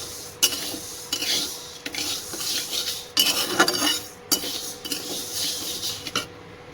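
Ginger and green chillies are ground into a paste by hand, giving repeated rough rasping and rubbing strokes with a few sharper scrapes. The strokes are close and fairly loud, with short pauses between them and no talking.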